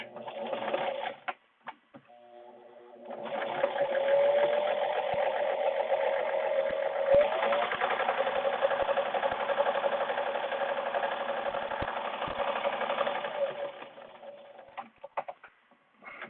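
A sewing machine runs steadily for about ten seconds while stitching a back stitch on a reusable fabric mask, with a whirring motor hum and short, quieter bursts at the start and end.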